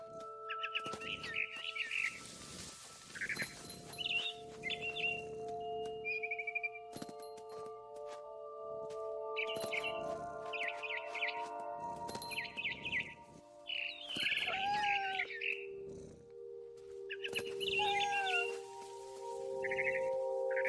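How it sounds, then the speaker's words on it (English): Barn swallow chirps and calls in What Remains of Edith Finch, bright repeated bird calls in short bursts across the clip, alternating with softer cat-like sounds and a steady sustained musical tone underneath. "It was a barn swallow going back to her nest."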